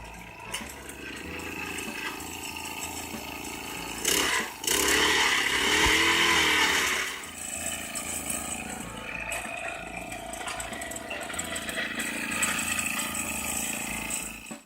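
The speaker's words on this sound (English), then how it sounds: "And here I am with the post hole auger that I rented from Home Depot." A rented gas-powered post hole auger digging footing holes below the frost line for a shed. The engine drones steadily and loudly, surging and straining for a few seconds midway, then settling back to a rough running rumble.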